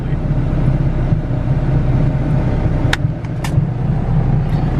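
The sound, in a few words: turbo GSR EF sedan engine idling on the dyno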